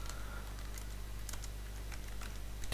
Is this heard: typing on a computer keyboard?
yes